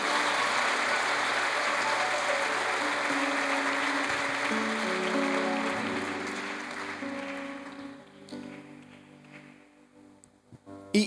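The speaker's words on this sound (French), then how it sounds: "Est-ce qu'on peut applaudir Jésus?" A church congregation applauds in a dense, sustained patter over soft musical tones, then the clapping thins and fades away toward the end.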